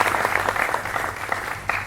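A studio audience on a televised debate show applauds loudly, dense steady clapping close up for a couple of seconds, with faint voices underneath.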